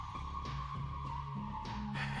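A car skids in the video game Sometimes Always Monsters, a sustained engine drone with squealing tire tones that swell and fade in short surges throughout.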